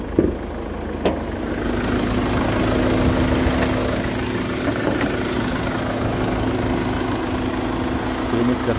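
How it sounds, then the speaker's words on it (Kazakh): A 2018 Kia Carnival with a 2.2 diesel engine idling, a steady low rumble and hum holding evenly throughout, close and moderately loud, with a brief click near the start and no speech. "Машинаның моторын көріп"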